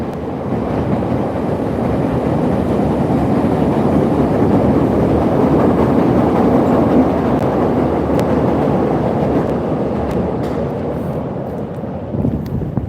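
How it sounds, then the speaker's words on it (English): An elevated Chicago L train rumbles past up close with a loud, broad roar that builds, holds steady for several seconds and then fades slightly, heard on a city street during the morning commute. "We'll watch this L train go by here."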